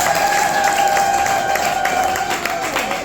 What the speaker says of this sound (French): On applaudit très fort le héros.